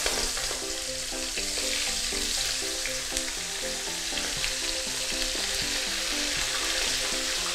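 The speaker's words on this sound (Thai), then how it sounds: "เดี๋ยวเราจะเอามาลงทอดกันค่ะ" Turmeric-marinated mackerel fries in hot oil, giving a loud, continuous close sizzle and crackle that stays steady throughout, with no voices.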